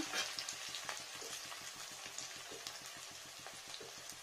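Whole, lightly crushed garlic cloves fry in a hot pan, giving a steady close sizzle with small rhythmic pops and crackles throughout.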